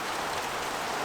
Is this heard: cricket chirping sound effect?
no